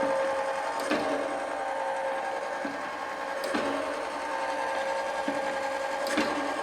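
An automated saw blade setter runs with a steady, busy mechanical chatter, and a sharper clunk from the clamping stations recurs about every few seconds, loud and close.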